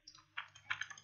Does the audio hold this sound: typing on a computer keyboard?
yes